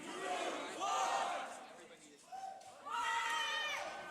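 Crowd at a Grand Beatbox Battle loopstation event shouting in response to a host's call, two loud bursts of massed voices separated by a brief lull.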